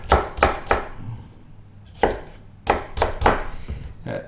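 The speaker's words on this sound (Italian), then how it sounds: "Prima cosa, tagliamo. Mi raccomando coltello bello affilato, perché sennò fate fatica." A sharp knife chops fresh asparagus on a cutting board in a kitchen, with three quick close cuts, a pause, then four more crisp strokes in an uneven rhythm.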